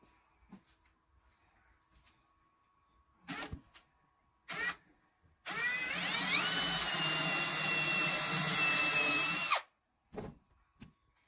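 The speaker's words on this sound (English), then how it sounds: "again, pre-drill hole." A power drill whines loudly for about four seconds as it pre-drills a hole in pallet wood, rising in pitch as it spins up, with brief clunks of handling before and after.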